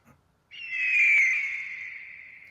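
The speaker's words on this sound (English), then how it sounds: "I had to download this eagle sound effect." A downloaded eagle sound effect: one long, piercing screech that starts abruptly after a short pause, peaks loudly, then slowly trails away, heard alone.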